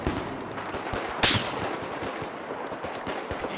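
Gunfire from an enemy machine gun in Battlefield 4 on the Lancang map, with one loud sharp shot standing out among scattered, fainter bursts of shots against a noisy battlefield background.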